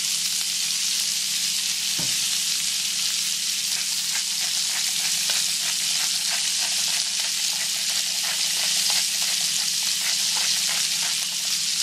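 Venison loin steaks sear in a hot pan, giving a loud, steady, close sizzle and crackle that runs unbroken throughout, with one brief clunk early on and no talking.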